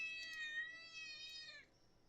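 A kitten gives one drawn-out, high meow close by in a quiet indoor room, ending abruptly.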